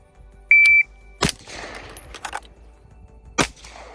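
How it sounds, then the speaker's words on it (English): Two sharp gunshots from a shooting drill, a single rifle round and then a single pistol round, with a few metallic clanks and handling noises between them and a short electronic beep from a shot timer just before. "Fire 1 round rifle, 1 round pistol."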